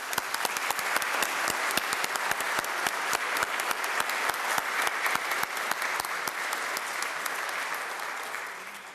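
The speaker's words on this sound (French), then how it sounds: "vous méritez une bonne main d'applaudissements" A church congregation at a Sunday Mass applauds steadily, many hands clapping in a dense, even roar that holds for several seconds before tapering slightly at the end.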